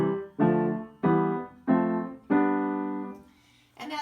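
Triads built on each note of a five-finger pattern are played one after another on piano, five separate rich chords struck in an even rising sequence, each ringing briefly before the next, followed by a faint extra sound at the end.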